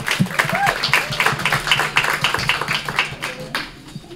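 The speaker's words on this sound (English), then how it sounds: "let's give them all another round of applause" Crowd applause at a women's tech dinner-and-talks event, dense steady clapping from many hands filling the room for about four seconds, with some voices mixed into the ovation.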